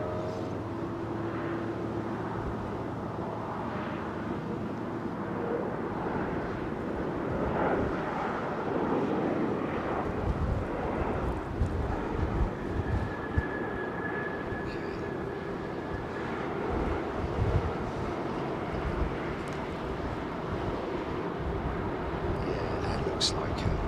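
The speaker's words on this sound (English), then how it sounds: "Looks like a Dubai bound jet." A jet airliner passes near Heathrow Airport as a broad, steady roar that swells slightly and rumbles on throughout, while people talk over it.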